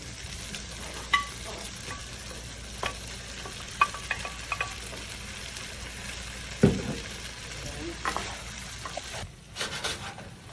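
Sausage sizzles in a pot of okra and tomato stew while a spoon stirs it, with scraping strokes and soft bubbling cutting through a steady frying hiss. No one speaks.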